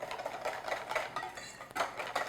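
A whisk beats custard for an apple tart in a bowl, giving rapid rhythmic clicking strokes close by and fairly soft, with a short pause midway.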